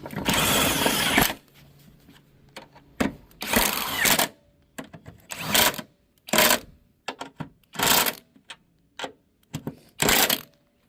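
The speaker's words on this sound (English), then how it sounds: "And I get my drill." A power drill drives a strut bolt while a front strut is replaced on a Toyota Camry, running in repeated short bursts of a second or less with pauses between them, close and fairly loud.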